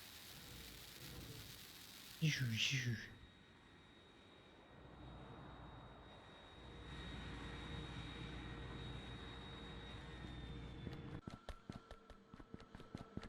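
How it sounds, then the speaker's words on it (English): An aircraft flies in the modded factory game Factorio with Krastorio, a steady engine drone holding for several seconds after a brief burst, then giving way to rapid rhythmic clicking at the end. "good thing we have a plane for this."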